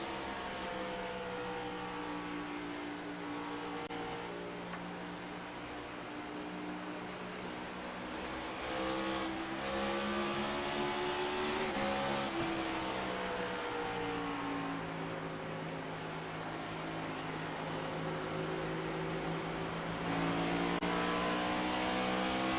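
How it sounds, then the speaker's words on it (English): Race car engine droning steadily as the field accelerates off a restart at Iowa in a sim racing game, several engines layered with rising and falling pitch sweeps, loud and continuous throughout. "he's got a great view out of the front window of Matt Morton hitting the gas in the restart zone"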